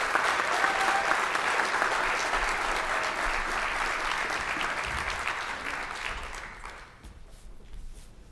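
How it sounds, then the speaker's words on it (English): Audience at a university student and staff awards ceremony gives a long round of applause for an honoree, loud and dense at first, then thinning and fading out near the end. "So if everybody could please give a large round of applause to Pat Sherwood"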